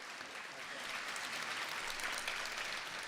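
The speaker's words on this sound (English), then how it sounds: "just to keep the clapping going a wee bit longer" Graduation ceremony audience at the University of Salford applauding in a dense, steady patter of many hands, fairly distant in a large hall, sustained without a break.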